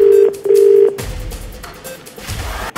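A telephone call rings out as a loud, steady ringback tone in two short pulses, then falls to quieter background noise with a few soft thumps.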